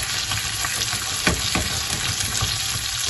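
Steak and garlic sizzling in a frying pan, a dense, steady crackle of frying with a few sharper pops, close and fairly loud, with no talking.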